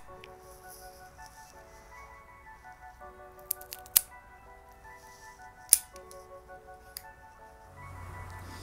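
A cigar cutter snips through a sweet-wrappered Steve Saka Sobremesa Brûlée cigar, giving a couple of sharp, close clicks against a quiet room with faint background hum.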